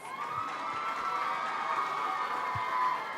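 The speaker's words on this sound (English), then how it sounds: "I want you to now give yourself a big round of applause." Steady crowd noise at a speech event, a continuous wash of applause and cheering that holds at an even level throughout, with a bright sustained tone running over it.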